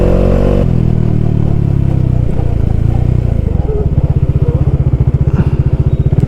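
A Bajaj Dominar motorcycle engine downshifting while riding, loud and close, with a rapid throbbing exhaust pulse that drops in pitch and rises again through the gear changes.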